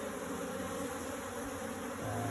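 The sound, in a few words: African honeybees swarming around a box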